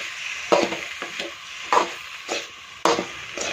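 Tomatoes and curry leaves sautéing in a pan for an okra-tomato mappas: a soft continuous sizzle, broken by about five distinct scraping stirs of a spatula, close and moderately loud with no talking.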